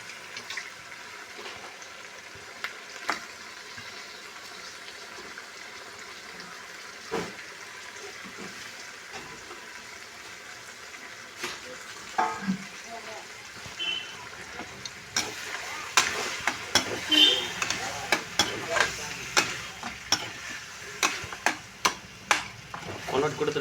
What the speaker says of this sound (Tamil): வெங்காயம் தக்காளிலாம் நல்லா வதக்கி வச்சு ஃப்ரெண்ட்ஸ் இப்போ நம்ம அடுத்த கறியை போட போகிறோம்.